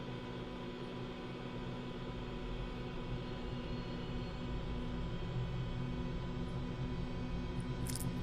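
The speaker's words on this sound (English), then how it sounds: "Here, the turbine's building up" A simulated twin-engine CowanSim Bell 222B helicopter's turbine spools up in Microsoft Flight Simulator, producing a steady, dense whine and rumble that holds evenly loud throughout without speech.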